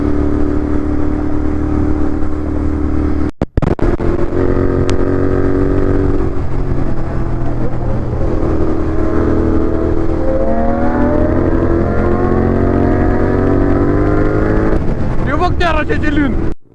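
A Royal Enfield GT650 twin-cylinder motorcycle on a Sunday highway ride toward Lonavala, its loud exhaust droning close with pitch climbing and falling through gear changes, wind buffeting and a sharp thump early, ending with quick revs.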